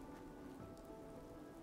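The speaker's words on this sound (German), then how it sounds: "Ja, es regnet ja auch noch." Steady rain in the game Fallout 4 patters on a surface, a constant soft wash of drops with no voices, faint and even throughout.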